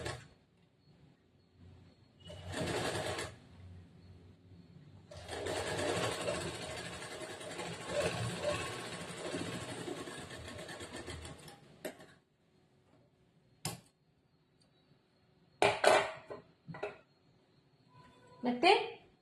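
A sewing machine stitches a blouse seam at a half-inch margin in quiet bursts: a short run, then a longer steady whirr of several seconds, followed by scattered clicks and brief starts.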